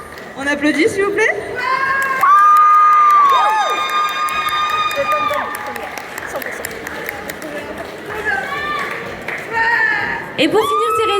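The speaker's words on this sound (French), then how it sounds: "On applaudit s'il vous plaît." A crowd at a Japan geek expo cheers and applauds a costume contest result, with shouts, whoops and scattered clapping over a noisy hall while electronic tones and voices ring out.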